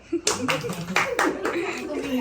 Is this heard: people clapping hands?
yes